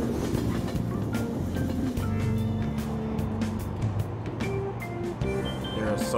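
Subway train ride in the video game Persona 5, set on a crowded Tokyo subway car: a steady low rumble of the moving train runs under game music throughout.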